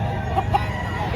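Chickens at a poultry market give short clucks, two quick close calls over a steady low background din.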